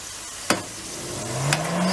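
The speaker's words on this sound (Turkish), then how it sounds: "patateslerimiz bayağı kızarmak üzere" Potatoes roasting in an oven to make oven fries give a steady, broad hiss of sizzling, broken by a couple of brief clicks.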